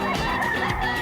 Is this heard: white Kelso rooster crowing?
yes